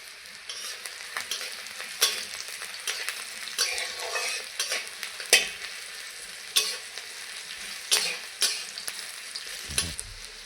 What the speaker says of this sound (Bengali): তেল গরম হয়ে গেছে দিয়ে দেবো রসুন আর কাঁচা লঙ্কা ভালো করে একটু ভেজে নেব